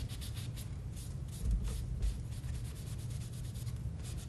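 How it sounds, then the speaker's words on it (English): A cloth rubbing wood stain off a wooden craft piece, giving a soft, continuous scuffing swish with slight swells, close and fairly quiet, and no voices. "I'm rubbing a little bit of it off now."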